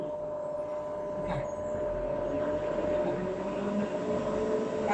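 A cat grooming vacuum is switched on and runs with a steady, even mechanical hum and whir, close and fairly loud, holding constant throughout with a faint voice briefly underneath.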